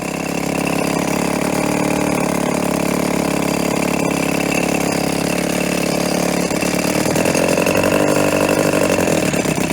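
A 1990 Evinrude 3.5hp outboard motor, a barn find, idles loud and close with a steady, buzzy hum that roughens slightly near the end.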